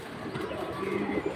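Pigeons coo softly and steadily at close range, a short burst of low throaty calls with no talk.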